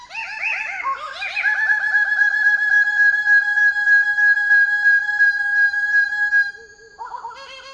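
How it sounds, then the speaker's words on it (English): A Goldie's bird of paradise calling: a loud, close series of harsh rising notes that merge into a long sustained ringing tone, then a few shorter lower notes at the end. "From the righteous cry of the bright orange Goldie's bird of paradise"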